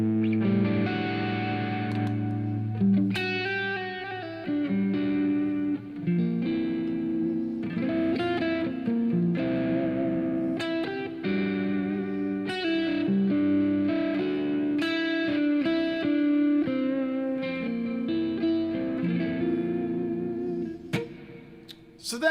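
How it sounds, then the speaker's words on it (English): Electric guitar melody drenched in a default hall reverb, notes ringing out and trailing into a wide wash, played continuously and fairly loud with no talking. "There's like the default like hall reverb, and it sounds fine."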